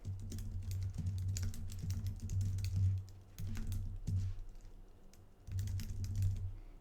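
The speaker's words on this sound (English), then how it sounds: "in my commit message, I'm going to type what we are, in present tense, what we're doing" Computer keyboard typing a commit message, bursts of rapid, close key clicks separated by short pauses, steady and moderately quiet with no talk.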